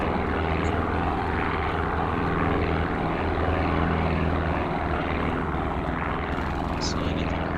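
Spitfire engines droning steadily in a flight combat video game, a dense continuous propeller roar filling the background while people talk over it.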